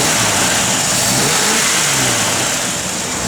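A 1955 Chevrolet Bel Air engine with a lumpy cam revs loudly and close, a rough continuous roar that holds high and then eases slightly at the end, with no talk over it.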